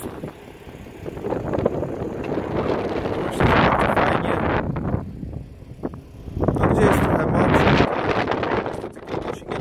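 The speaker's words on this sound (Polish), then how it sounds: "Pewno same szumy będą wiatru." Heavy wind buffeting the microphone in rumbling gusts outdoors in a ploughed field, swelling and easing over several seconds, close and loud.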